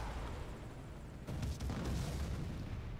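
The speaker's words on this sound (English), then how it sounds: "Dang, that's a big explosion." A big airstrike explosion in Metal Gear Solid 5: Ground Zeroes, a sudden deep boom that swells out of a rumbling background and rolls on for a couple of seconds, with no talking.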